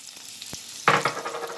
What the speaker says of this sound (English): We're going to add a little bit of cooking oil to it. About that much. A little bit of cooking oil. And then we're going to add some chopped onion.